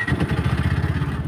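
A small machine engine running right after starting, chugging in a fast, steady, evenly pulsing rhythm, close by and moderately loud, with no talking.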